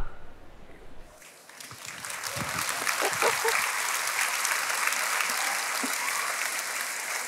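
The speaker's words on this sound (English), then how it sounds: "So yes, you can applaud." Audience applause swells from a quiet start into sustained, dense clapping at a conference on impact entrepreneurship, steady and fairly loud from mid-hall with no voices over it.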